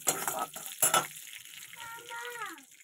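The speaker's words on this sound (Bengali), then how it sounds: "তো পাঁচফোড়ন দিয়ে এবার আমি এটাকে একটু ভালো করে ভেজে নিচ্ছি পাঁচফোড়নটাকে।" Panch phoron spices fry in oil in a wok with a soft sizzle and a few short stirring scrapes near the start, fairly quiet, and a voice is briefly heard toward the end.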